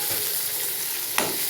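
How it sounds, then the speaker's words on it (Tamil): Chopped tomatoes and onions fry in a pan for a potato white kurma, a close, steady sizzle with a brief louder crackle as the mixture is stirred. "வெங்காயம் நல்லா வதக்கிறது."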